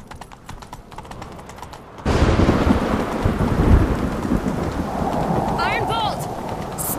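Hooves clatter in a fast, continuous horse gallop in the video game The Witcher 3: Wild Hunt over a rumbling, rainy backdrop, with a brief voice or whinny rising near the end.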